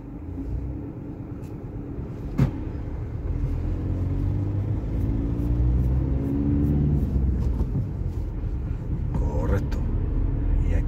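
A car pulls away at a junction during a driving lesson, its engine rumbling low and rising slowly as it accelerates, with a brief click and a few faint knocks, under quiet speech inside the cabin.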